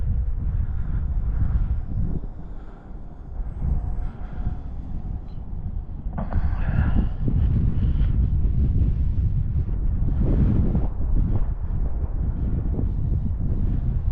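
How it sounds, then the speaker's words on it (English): Strong gusting wind buffets the microphone outdoors at an RC plane flying field where a WLToys Pitts biplane is fighting the wind, a loud continuous low roar with surging gusts and a faint motor whine underneath. "I'm fighting the wind. Yeah, really fighting the wind."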